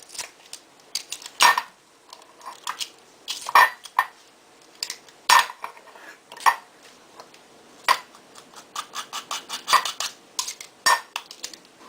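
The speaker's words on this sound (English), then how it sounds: "So you have to mince the garlic now." A knife chopping eight cloves of garlic on a board for fasoulia, sounding as irregular sharp taps and clicks, some in quick bursts and some spaced out, close by and fairly loud, with no talking.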